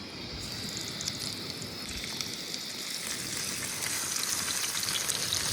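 Boi fish fry in hot oil with a steady, dense sizzle and crackle that holds evenly and close for several seconds, with no talking over it.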